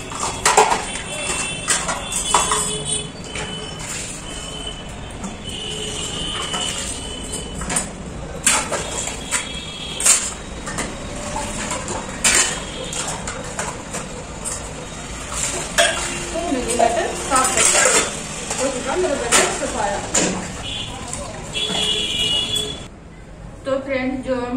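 Dishes and utensils being washed in a village home: steady clinking and clattering of metal pots, plates and cutlery, with splashing and scraping throughout and someone speaking at times.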